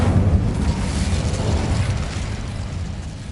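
An Incendio fire spell goes off in Hogwarts Legacy with a loud, close whoosh and rumbling burst of flame that starts strong and slowly fades over a few seconds, with no voices over it.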